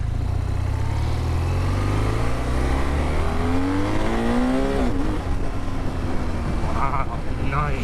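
A 2026 BMW R 12 G/S motorcycle accelerates hard with quick-shifter upshifts, its engine note climbing in steady rising sweeps with brief dips at each shift, loud and continuous under wind noise.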